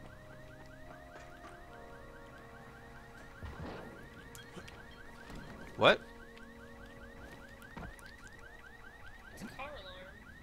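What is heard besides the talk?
car alarm going off in the video game Dying Light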